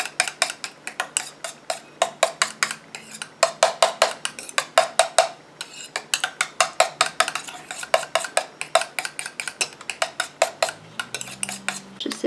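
A utensil stirring a homemade aloe vera gel mixture in a bowl, giving a long run of quick, steady clinking taps close by, with brief pauses, and no talking.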